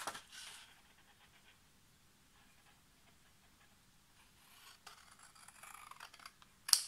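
Scissors cut a small piece of cardstock for a winter-themed mini album: faint, quiet snips with a short burst at the start and a cluster of crisper cuts near the end, no voices.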